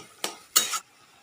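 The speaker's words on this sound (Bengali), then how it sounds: "এই যে ভালো করে নেড়ে চেড়ে" Stirring taro stem curry in a pan, two short bursts of scraping and sizzling close up, the second burst louder and longer, followed by quiet.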